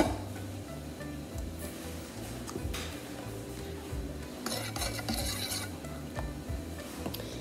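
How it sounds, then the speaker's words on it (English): A spoon stirs baking soda into a bowl of boiling water with steady scraping and rubbing against the bowl and occasional faint clinks. "you want to get a bowl of boiling water and a teaspoon of baking soda and put it in there. And give it a little bit of a mix."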